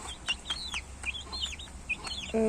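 Hens cluck and chatter in short rising calls, close by, with a steady low background hum and a brief rattle at the end.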